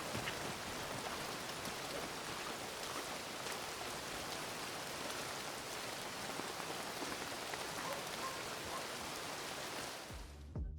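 Rain falling in the video game Red Dead Redemption 2, a dense, even hiss of rain on surfaces that holds steady throughout and cuts off abruptly at the end.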